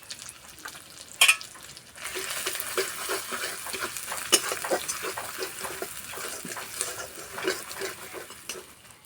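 Ground cumin and chili powder fry in a pan for egg pulao, a steady close sizzle under repeated scraping stir strokes, opening with a sharp clatter of the spoon and no talking.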